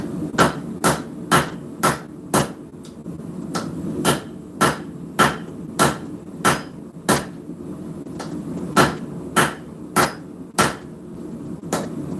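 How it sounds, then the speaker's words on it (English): Rounding hammer strikes metal during forging, a steady series of sharp, ringing blows about every half second, close and loud, with short pauses between runs of strikes. "Side of my rounding hammer here, just the side of it, and as I'm hammering this"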